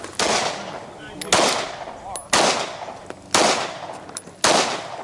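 Handgun shots crack out at a shooting class, five sharp close reports spaced about a second apart, each with a short echoing tail.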